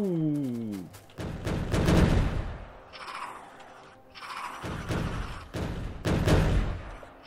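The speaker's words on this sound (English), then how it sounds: "we'll watch the artillery start" In a video game, artillery fires in repeated heavy volleys. Each one is a loud booming burst with a rumbling tail, and there are short lulls between them. A brief falling tone can be heard at the start.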